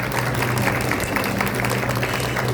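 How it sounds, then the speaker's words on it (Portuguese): Audience clapping closes a talk on Umbanda tarot at Mystic Fair BH 2022, a full, continuous round of applause with a low hum underneath. "uma salva de palmas"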